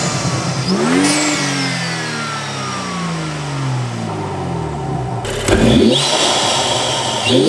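A BMW 435i fitted with an Injen intake revs hard in sports mode, rising and falling engine pitch sweeping through several loud climbs, with a sharp burst near the end, close to the microphone and no talking.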